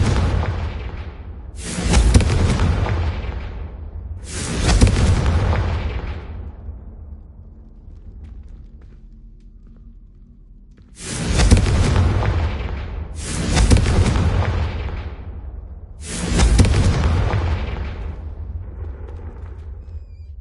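A fire spell from Hogwarts Legacy lights a row of braziers. Six heavy whooshing blasts land loud and close in two groups of three, each one trailing off into a roaring rumble.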